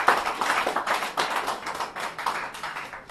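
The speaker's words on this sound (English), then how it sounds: "You can clap your hands for yourselves for the victory" A crowd at a campaign launch speech claps steadily and loudly, a dense, continuous patter of many hands with no pauses.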